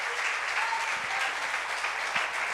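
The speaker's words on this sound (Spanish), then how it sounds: "Dele un aplauso fuerte al Señor." Steady applause from a church congregation during an anniversary worship service, a dense even wash of clapping at moderate distance that holds throughout with no voices over it.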